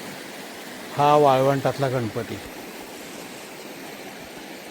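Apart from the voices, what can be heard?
Krishna river water flowing and gurgling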